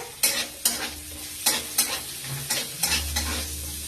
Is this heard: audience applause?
no